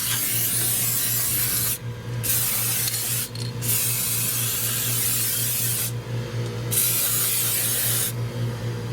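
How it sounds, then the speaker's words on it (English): Anti-corrosion spray hisses in several steady bursts onto the exposed metal of a Sea Doo Switch boat sitting on its trailer, with short pauses between sprays over a constant low hum. "From the back of the boat, I'm going to start spraying"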